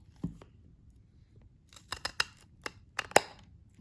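KING TIGER KT2R anvil pruning shears snipping a branch several times, giving a sparse series of short, crisp close-up cuts and clicks with quiet pauses between them.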